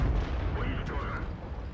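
A single deep cannon shot from a tank in a video game, a heavy boom that rolls out over a low rumble of battlefield noise.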